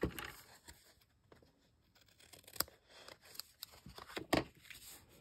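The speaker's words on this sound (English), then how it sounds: "I'm just going to take my scissors and trim there." Scissors trimming the edge of card paper for a folded greeting card, a run of short sharp snips and crisp paper rustles spaced irregularly, close and fairly quiet, with no talking.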